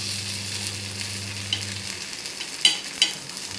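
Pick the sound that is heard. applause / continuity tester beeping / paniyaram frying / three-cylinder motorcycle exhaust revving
paniyaram frying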